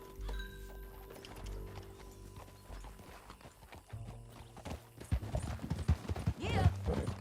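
Steady clip-clop of horse hooves at a trot in the video game Red Dead Redemption 2, growing louder and closer toward the end, with a brief whinny-like sound over a low rumble.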